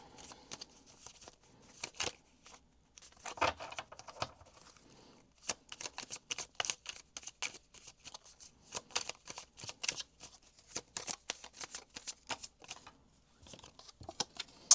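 Tarot cards are shuffled repeatedly by hand, crisp riffling and flicking bursts in quick irregular runs with brief pauses between, close and clear.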